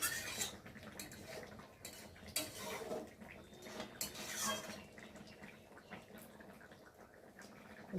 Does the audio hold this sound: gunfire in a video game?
no